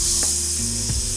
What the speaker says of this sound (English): All right, pan nice, got a sizzle to it.